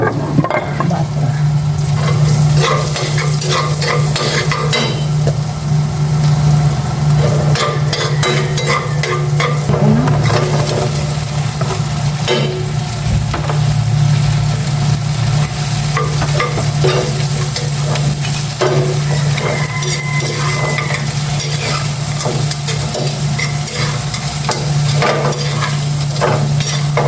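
Shrimp frying in butter and being stirred in a pan, with a loud, continuous sizzle and repeated stirring scrapes throughout and no talking.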